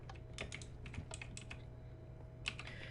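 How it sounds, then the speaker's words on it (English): A clicky computer keyboard is typed on in quick irregular bursts of sharp keystrokes, close and fairly quiet, with no one talking. "I seriously hope that you guys can't hear much of my keyboard, because I don't like the fact that it's super clicky."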